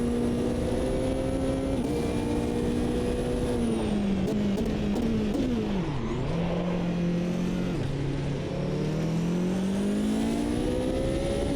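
A GTE race car engine drones steadily through a lap in Automobilista 2, its pitch rising and dipping with gear changes and throttle lifts, loud and continuous with no pauses.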